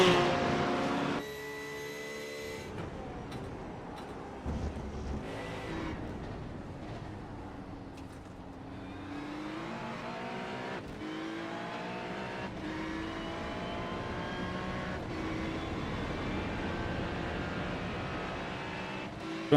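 Engine of a Ford Mustang race car in the iRacing sim at Suzuka, heard from a following car: a steady, loud droning roar with shifting pitch sweeps as revs rise and fall, continuous throughout without talk.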